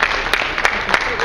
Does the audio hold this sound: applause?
yes